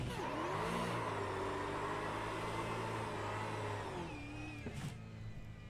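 A V8 Supercar in the iRacing sim revs at a race start: a steady, loud engine drone with shifting pitch that rises and falls, then eases off near the end. No one speaks.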